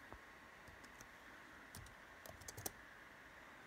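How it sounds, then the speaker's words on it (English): Someone types a short note on a computer keyboard, with a handful of quiet, irregular key clicks and a few clustered taps over faint background hiss. "as I start typing in my little note to myself"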